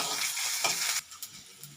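Chopped onions sizzling and frying in a pan for tomato chutney, steady close hiss with stirring scrapes, fading slightly after the first second.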